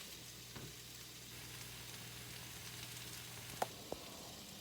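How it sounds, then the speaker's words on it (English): About a tablespoon and a half of butter melts in a pan with a soft, steady sizzle, faint and close, and a couple of small clicks near the end. "Now I'm going to add about another tablespoon and a half of butter. And let that melt down."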